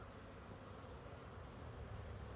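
Honey bees fly around their hive on a winter day, a faint, steady buzzing drone with no break, heard from a little distance.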